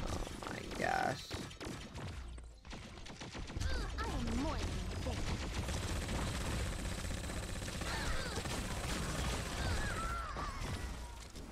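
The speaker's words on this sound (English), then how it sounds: "I hear the Christina shots going off." Weapon shots from the character Christina fire in the mobile shooter T3 Arena, a steady stream of game combat effects with music, mixed under continuous gameplay sound throughout.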